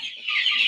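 A single country chicken lets out one brief, close cluck-like call, high and slightly nasal, lasting under a second.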